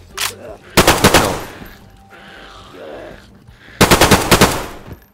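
Bursts of automatic gunfire in the PlayStation 4 game DayZ, loud rapid volleys near the start and again near the end, with a quieter stretch between and someone speaking briefly.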